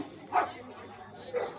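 A dog at a dog show barks twice, the two short, moderately faint barks about a second apart over a low murmur of background voices.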